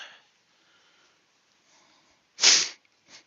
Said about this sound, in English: excuse me if I'm sniffing and snuffling all the way through, but I've got a steaming cold again